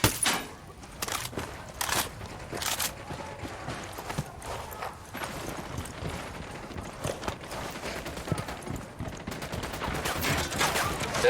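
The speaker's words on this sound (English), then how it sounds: "I'm opening fire on these shitheads." Rapid gunfire bursts in the video game Ghost Recon Wildlands, repeated cracks and volleys that are loud and close, layered over constant game background noise with no talking.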